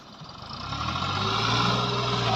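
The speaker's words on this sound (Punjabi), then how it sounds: "ਟਰੈਕਟਰ ਥੋੜਾ ਤੁਰ ਜਾਂਦਾ" A 260 tractor's engine drones steadily as the machine creeps forward, a low continuous rumble that swells slightly and then holds, close by with no voices.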